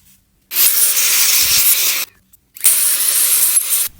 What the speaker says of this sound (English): I'll use some air to dry off the areas that I just can't reach.